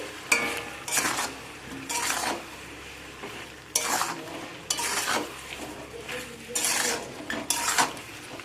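Tomatoes and chicken, salted, are sautéed in a pan with a low sizzle under repeated scraping strokes of a utensil, each stir coming in an uneven rhythm about every second.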